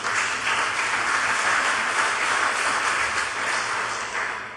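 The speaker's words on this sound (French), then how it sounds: "Je vous demande d'applaudir." Sustained applause from members of a territorial assembly chamber during a presidential election session, a dense, loud, even wash of clapping that holds steady for over four seconds before easing slightly at the end.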